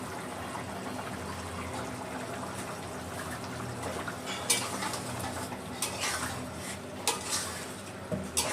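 Buffalo meat curry being stirred in a pot, a soft steady cooking hiss underneath with a few scattered metallic scrapes and clinks of the spoon against the pot in the second half, nearby and fairly quiet.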